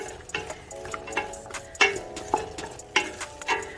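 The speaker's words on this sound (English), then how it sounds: "So I'm just going to saute that now for not even a minute." Chopped carrot and potato sauté briefly in a pan, with a low sizzle under sharp, irregular taps and scrapes from stirring, close by and without talk.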